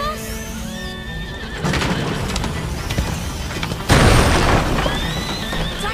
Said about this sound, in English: We need that horse!